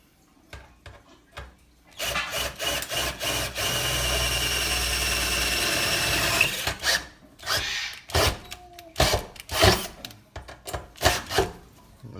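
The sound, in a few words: drilling a hole for a faucet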